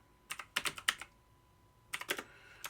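Fingers type on a computer keyboard while entering text into rail announcement software, producing two short bursts of quick, close key clicks separated by a pause.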